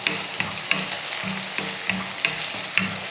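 Small onions and curry leaves sauté in a hot pan, giving a continuous sizzle broken by about eight regular scraping stirs of a spoon against the pan, close and moderately loud with no talking.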